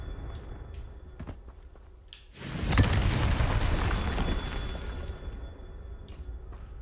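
A Confringo spell in Hogwarts Legacy blasts objects apart, a sudden booming burst midway that rolls into a few seconds of rumbling debris before fading, with soft game ambience and footsteps around it.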